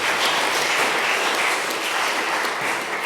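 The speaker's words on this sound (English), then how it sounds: "let's give a round of applause to Rakesh" An audience at a panel on policies for human-wildlife conflict applauds a speaker, a dense even wash of clapping sustained throughout.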